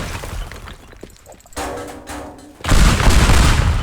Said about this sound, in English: But I'm gonna throw a bomb.